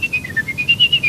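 A person whistles a quick, warbling tune in a series of short, bright pulses, clear and close with light background noise.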